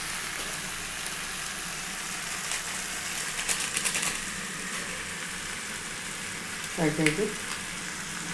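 Mixed vegetables for chow mein frying in a pan: a steady close sizzle throughout, with a few stirring scrapes and clatters and a short spoken phrase near the end.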